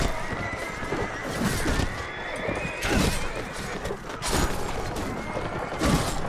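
Horses in a Mount and Blade: Warband battle give repeated loud whinnies over clattering hooves and dense combat noise, a busy, continuous din.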